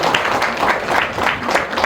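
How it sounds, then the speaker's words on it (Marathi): Brisk applause from the audience at a Marathi literary event in New Panvel, honouring the poets who recited, a short burst of dense clapping at steady, fairly loud level. "त्यांच्यासाठी एकदा जोरदार टाळ्या."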